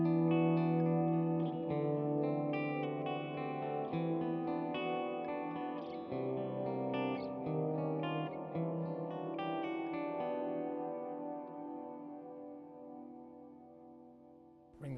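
Guitar run through a Wampler Ethereal delay and reverb pedal with the tone knob fully down and reverb fully up, sustained chords and picked notes washed in soft, darkened ambience that slowly decays to a quiet tail, no talking.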